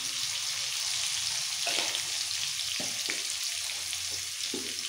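Chicken pieces seasoned with salt and turmeric fry in a pan, giving a steady, close sizzle broken by a few soft stirring knocks.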